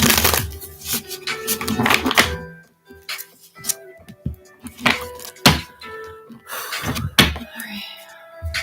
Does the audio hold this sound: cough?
no